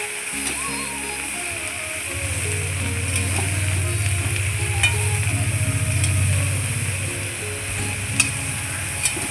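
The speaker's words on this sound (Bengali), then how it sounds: "আবারও ভালোভাবে আমি নাড়ে চেড়ে নিচ্ছি ভালোভাবে নেড়ে চেড়ে নিতে হবে" Fried hilsa fish head is stirred with taro leaves in a pan, producing a soft sizzle and repeated scraping of a spatula, with a low steady hum beneath and a few sharp clinks.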